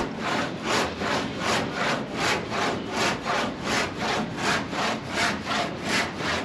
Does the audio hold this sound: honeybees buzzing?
no